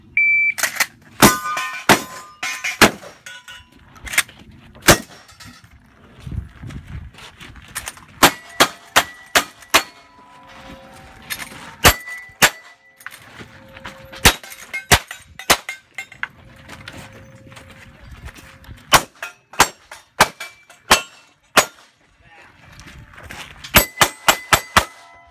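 Pistol and gun shots at an outdoor 3-gun shooting match, sharp loud cracks in irregular bursts with metallic clangs of steel targets ringing between them, no voices.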